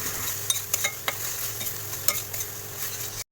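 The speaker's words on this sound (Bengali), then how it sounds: "আবারও একবার সমস্ত মশলাগুলোকে খুব ভালো করে কষিয়ে নেব।" Ground spices for a restaurant-style crab curry stir-fried in oil in a pan: a continuous sizzle runs under repeated scraping strokes of a spatula, then stops abruptly, with no voices.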